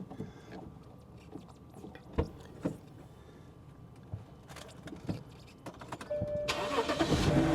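A 2011 BMW engine cranks and catches after a series of scattered clicks and knocks nearby, then settles into a steady running rumble. No one speaks.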